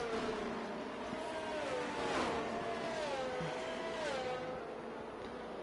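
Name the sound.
race car engines behind the safety car in a racing game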